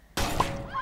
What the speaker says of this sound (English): This action is matched with the sound of the glass smashing to create an L cut.